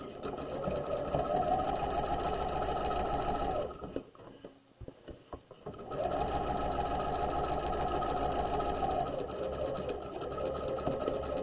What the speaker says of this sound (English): now I'm sewing back up the front, and I'll end at the center front at the waist